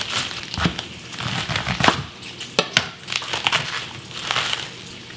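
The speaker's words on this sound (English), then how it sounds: "Now I'll cut the core out." A knife cuts the core out of a head of cabbage, giving crisp crunching and snapping cuts in uneven bursts close by, with no voices.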